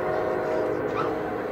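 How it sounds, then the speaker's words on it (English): A passing train rumbles steadily at a distance, a continuous low roar with a faint hum and no distinct horn, filling the short stretch without any talk. "Another train going by."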